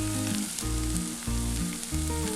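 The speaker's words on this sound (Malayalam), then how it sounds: "ഇതിൻ്റെ പച്ചമണം മാറുന്ന വരെ ഇത് നന്നായിട്ടൊന്ന് മൂപ്പിച്ചെടുക്കണം" Tomato and biryani masala powder sauté in a pot for chicken pot biryani, a steady close sizzle and fry with a few soft stirring scrapes, no voices.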